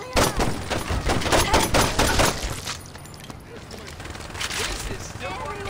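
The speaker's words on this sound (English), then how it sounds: "Can you stop shooting Donnie?" Rapid bursts of gunfire from the Saints Row 2 video game, dense and loud for the first half, then tapering into quieter scattered shots with a voice talking over it.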